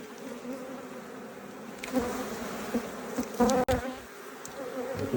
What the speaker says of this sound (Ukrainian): ми ще трішки звідси струсимо бджоли